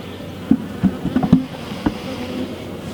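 Honeybees buzz around a beehive nucleus box holding a queen cell, a few close passing buzzes rising and fading over a soft background hum.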